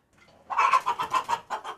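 Domestic chickens cluck in a quick run of short, close, moderately loud calls with brief pauses between them, heard alone with no talk.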